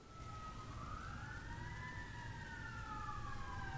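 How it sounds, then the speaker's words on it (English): Faint wailing sirens rise and fall in the distance, steady and continuous under a low background rumble. "You guys hear the sirens?"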